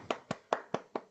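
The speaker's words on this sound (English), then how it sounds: "Can we have a huge round of applause, please?" A single person clapping in an online meeting, five crisp evenly spaced claps, close and fairly quiet, with no crowd behind them.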